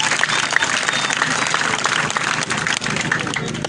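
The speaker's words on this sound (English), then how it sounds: "So let us all clap our hands very loudly for the Lord" A large crowd at an outdoor People Power political rally in Kyegegwa claps loudly and continuously, a thick, steady roar of applause with no pause.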